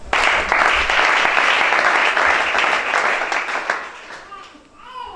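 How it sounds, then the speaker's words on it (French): Congregation at a church worship service in Gabon applauding loudly in a dense, steady burst of clapping that swells then fades after a few seconds, with voices mixed in. "Acclamons chacun."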